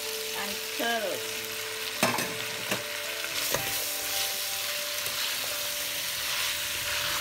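Paprika, tomatoes and carrots fry in a little oil with a steady sizzle, broken by a few sharp knocks of a spoon against the pan and a brief tonal squeak near the start.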